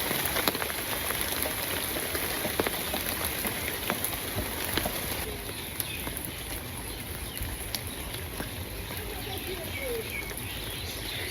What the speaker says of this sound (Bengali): এত সময় কি বৃষ্টি হইলে আর জানি ঝিরঝির করে আবার পড়বে।